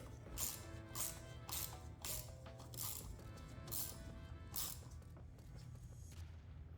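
Screws being snugged down on the intercooler pressure valve of a 2015-2023 Ford Explorer 2.3L, a quiet run of repeated ratcheting clicks in bursts with faint mechanical creaks, close by and without talk.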